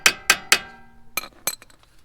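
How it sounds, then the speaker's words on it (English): Metal cotter pins are fitted back into a Lexus RC F brake caliper, giving three quick bright clinks followed by a few softer taps, close and clear, with no talking. "now we put these cotter pins back in"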